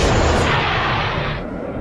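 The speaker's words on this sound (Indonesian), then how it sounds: "Usopp benar-benar menembakkan amunisinya" A sharp gunshot effect from the One Piece anime, a single heavy boom-like burst of ammunition fired, loud and close, trailing into a brief decaying rumble with no talking.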